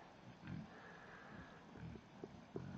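Low, soft Berkshire pig grunts at a distance on a farm, a few short oinks scattered over a quiet background.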